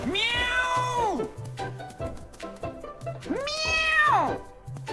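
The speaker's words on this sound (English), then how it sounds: "Meow!" A kitten meows twice, two long drawn-out cries close to the microphone separated by a pause with soft background rustling and small sounds between them.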